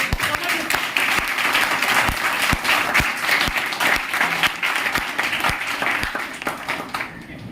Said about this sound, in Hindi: एक बार जबरदस्त तालियां, दिल से तालियां